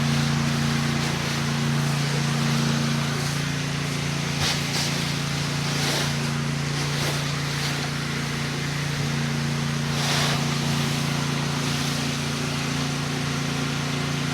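An 8 gpm pressure washer with a fan tip sprays a house wash, making a loud, continuous hiss over a steady engine drone, with no speech.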